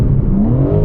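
A BMW M4 Competition engine revs freely with no limiter, a loud, close rising whine that climbs steadily in pitch over a short burst.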